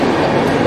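A train rolls into a platform at Ghatsila station, heard as a loud, close, dense rumble of wheels and carriages over a brief moment.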